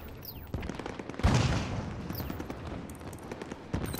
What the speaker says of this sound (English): we can get some SMG fire